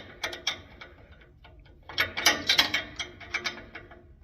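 Quick ratcheting clicks of a wrench working a bolt on a New Holland 570 baler header pick-up, a sparse burst followed by a denser run of close metallic ticks, with no talk.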